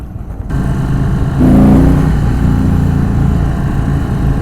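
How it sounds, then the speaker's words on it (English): An Indian Super Chief motorcycle engine rumbles loudly up close, then a quick throttle blip lifts the revs into a brief roar before settling back to a steady, deep running drone. "a little blip of the throttle there, and you feel the power"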